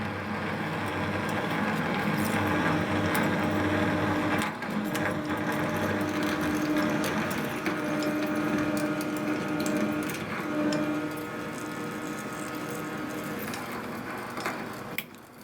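A 31/32-inch hole is drilled with cutting fluid, about 4.5 inches deep, producing a steady machine hum with a whining tone and scattered ticks and scrapes from the cutting, heard alone at close range.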